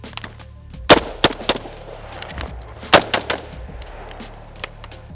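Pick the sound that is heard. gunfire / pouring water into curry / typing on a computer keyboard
gunfire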